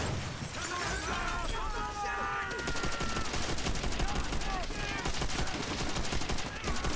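Rapid automatic gunfire and sharp bangs fill a loud Call of Duty: World at War battle, with shattering bursts and a brief blast; shouting voices run under and over the shots.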